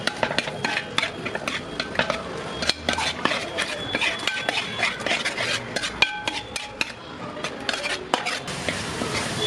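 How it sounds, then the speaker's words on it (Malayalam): A spoon scrapes and stirs ground spices, garam masala and kasuri methi together in a pan for chana masala, with quick, close clinks and scrapes under a light sizzle, repeating steadily throughout. "ഇനി നമുക്കിതെല്ലാം കൂടെ അങ്ങ് മിക്സ് ചെയ്യാം."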